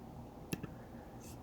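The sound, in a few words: mouse click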